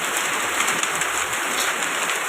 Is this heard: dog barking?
no